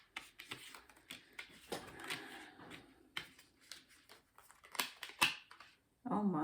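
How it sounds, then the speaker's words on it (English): A tarot card deck is handled and shuffled, giving bursts of papery riffling, flicks and taps with quiet gaps, ending in a louder rustle. "And this deck was shuffled."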